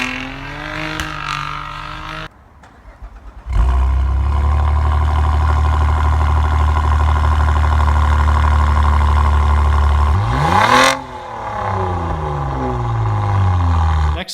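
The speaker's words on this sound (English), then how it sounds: "it produces one of the best sounding exhausts from a sports sedan" A Saab Turbo X sports sedan revs and idles, its engine and exhaust rising in pitch, dropping briefly, then holding a loud sustained drone before a second rev climbs and settles, heard close with no talk.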